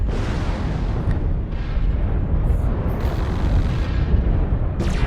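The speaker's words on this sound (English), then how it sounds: "I'm shooting you right in the back" Heavy weapons fire from a Highlander 732B assault mech strikes an enemy mech in MechWarrior Online, a continuous dense rumble of booming blasts and explosions with a few sharper bursts, loud and close.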